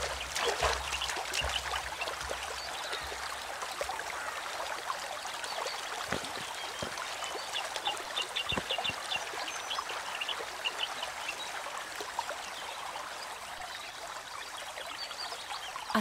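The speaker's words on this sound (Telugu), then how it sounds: "ఆ సౌండ్స్ విన్నావా? దగ్గరలో వాటర్ ఫాల్స్ ఉన్నాయేమో." Water flowing from a waterfall in a forest, a continuous soft rushing and trickling wash heard at a distance, faint and steady with occasional small splashes.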